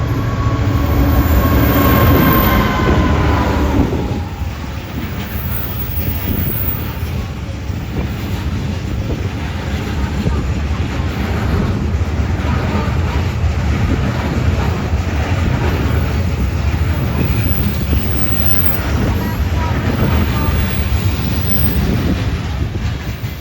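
A Class 66 diesel locomotive, 66078, passes through Doncaster station, a loud steady rumble and clatter of wheels and wagons sustained throughout, with wind buffeting the microphone and no one talking.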